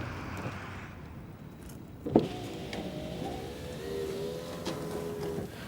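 A car's electric window motor whirs steadily as the power window lowers, preceded by a sharp click, with faint street ambience and no speech during the movement.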